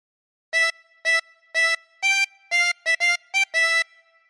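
A 16-hole tremolo harmonica plays the Ten Green Bottles phrase as a string of nine short blown and drawn notes in steady rhythm, with the last note held slightly longer, loud, close and alone.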